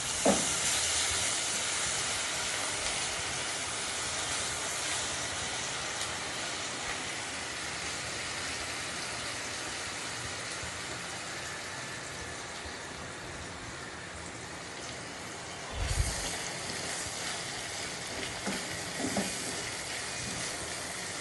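Ginger garlic paste sizzling in hot oil with browned onions in a kadai for white karahi, a steady loud frying hiss that continues throughout, with a brief clatter of stirring near the end.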